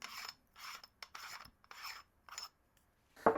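Plastic nozzle of a KickAss Jet Fan MAX being unscrewed, a series of five or six short, close scraping rasps with brief pauses between twists, ending in a sharp click.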